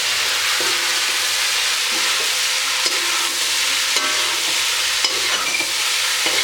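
Batai sizzles while it is stirred and fried in a kadai, with a constant hiss and scattered scraping clinks of a spoon against the pan, close up and with no talking.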